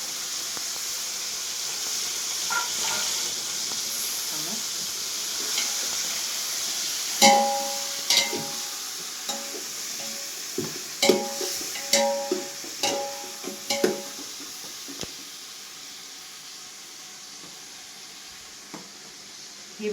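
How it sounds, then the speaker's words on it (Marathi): Mutton cooks on a wood-fired stove with a steady sizzling hiss. In the middle stretch a run of sharp metallic clinks and taps from utensils comes through, then the sizzle carries on alone and fades slightly. "या चुलीवरचं मटण आहे आज मस्त पैकी"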